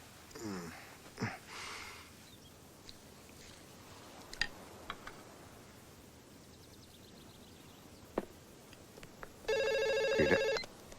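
A cell phone rings in a Telugu film scene, a loud electronic ringtone bursting in near the end after quiet clicks and faint background noise.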